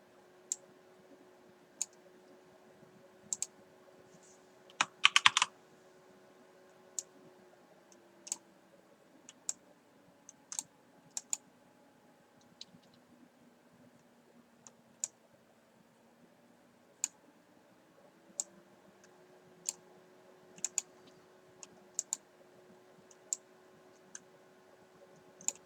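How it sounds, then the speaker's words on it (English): Sparse keys clicked on a computer keyboard, isolated sharp taps scattered at an irregular pace with one quick burst of several keystrokes, quiet and close with a faint hum underneath. "I'm just going to type in here quick"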